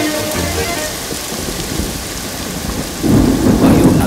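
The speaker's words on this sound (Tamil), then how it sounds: "ஐயோ, நல்ல மழை." Heavy rain pours down in a thunderstorm, a dense steady hiss with rumbling thunder swelling louder near the end, no voices heard.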